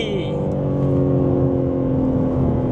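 A deep, throaty BMW G80 M3 engine revs and rumbles loudly up close, its exhaust roaring steadily with a brief higher whine at the start.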